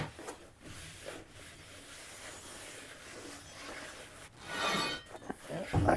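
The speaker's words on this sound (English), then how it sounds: "Scrubbing this stuff in will get a lot of the loose junk, especially the brake dust" A brush scrubbing a cleaner into a rusty car wheel to loosen brake dust and grime, a close, quiet, rhythmic rubbing that grows louder and harsher near the end.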